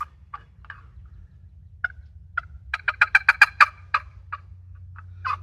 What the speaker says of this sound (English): You can trigger a turkey to gobble.